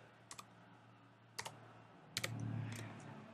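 Several short bursts of keystrokes tap out numbers on a computer keyboard, three or four quick clicks at a time separated by pauses, faint and close against a quiet background hum.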